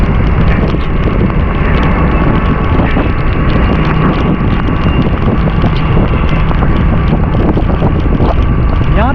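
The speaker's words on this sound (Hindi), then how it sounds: "यहाँ तो ऐसा लग रहा है जैसे तूफानी बारिश हो रही है।" Stormy heavy rain and wind batter a motorcycle on the road in Punjab Colony, a dense, unbroken, loud roar of rain and wind buffeting throughout.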